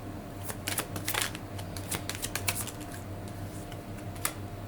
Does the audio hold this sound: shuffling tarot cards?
yes